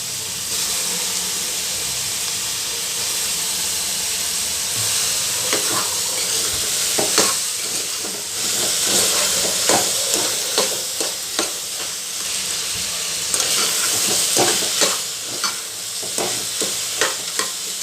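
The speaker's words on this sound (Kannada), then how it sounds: "ಈಗ ಆಲೂಗಡ್ಡೆ ಹಾಕ್ತಾ ಇದ್ದೀನಿ" Potatoes tossed and stirred in a hot frying pan while making chana soya pulao: a steady sizzle and hiss of frying, with repeated scraping spoon strokes near and clear, no talking.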